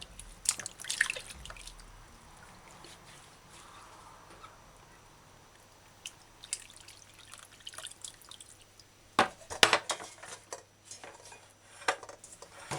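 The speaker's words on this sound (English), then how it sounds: "Now wash the skin of the cucumber." A cucumber rinsed in a kitchen, with scattered drips and splashes of water and occasional clinks of dishes and utensils, close by and fairly quiet, rising to a busier spell of splashing near the end. No one speaks.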